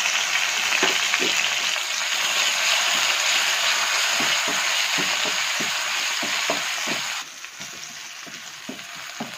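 Onions and tomatoes fry in a pan for a paneer cashew butter masala curry, giving a loud, continuous hissing sizzle with scattered stirring clicks; the hiss drops noticeably in level near the end.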